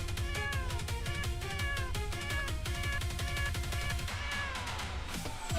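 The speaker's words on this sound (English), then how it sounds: "Look at the spectral kitty!" A spectral kitty cat in a video game meows repeatedly over steady, loud, busy game music, the mews rising and falling in quick succession.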